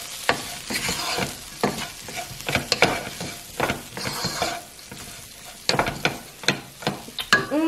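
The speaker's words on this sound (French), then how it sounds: "Donc du sel, du poivre, on va mélanger un petit peu." Food seasoned with salt and pepper being stirred in a pan during quick meal prep, with a sizzle underneath and irregular scraping and clinking of a utensil against the pan, close and fairly loud.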